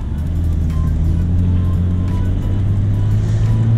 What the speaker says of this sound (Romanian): Ce mai îmi place la biturbo e cum se aude evaporarea, cum se aud turbinele alea.